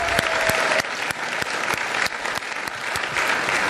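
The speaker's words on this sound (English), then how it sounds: "all right, clap it up." Audience applause fills a city commission meeting, dense steady clapping from a crowded room lasting a few seconds, with scattered sharper claps standing out near the front.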